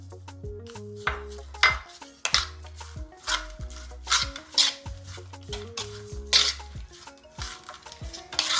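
Dry spice is stirred into a green plantain and crab meat dish, with scattered scraping and clinking of a utensil against a pot, close and fairly soft beneath a looping background music track.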